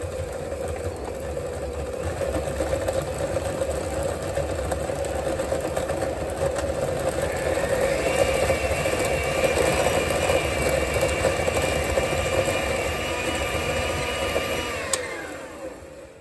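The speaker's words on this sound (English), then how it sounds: "So starting out by just creaming the butter." An electric mixer creams butter for buttercream frosting with a steady whirring motor hum. The pitch rises partway through as the speed changes, then stops abruptly near the end. It runs alone, close by, with no talk.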